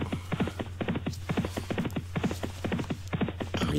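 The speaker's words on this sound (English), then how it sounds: "A loose horse, Solway Breeze, bowling along nicely in second place, but minus the pilot as they take this ditch." Hooves of racehorses in a handicap steeplechase pound in a fast, steady drumming gallop over turf, heard at moderate distance under a low hum.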